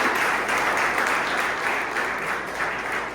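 Dense, sustained clapping from a large crowd at a church service, steady and enthusiastic throughout with no pauses.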